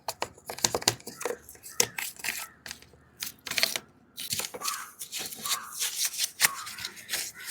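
A toothbrush scrubs the parts of a dismantled washing machine, making close, irregular bursts of scratchy, rustling bristle strokes with brief pauses between them.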